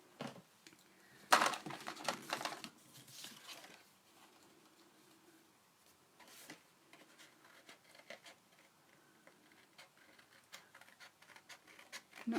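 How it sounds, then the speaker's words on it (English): Cardstock shapes being cut out by hand for handmade birthday and friendship cards: faint, close paper snips and light ticking rustles, busiest near the start, then sparse and quiet. "I'm going to cut these out."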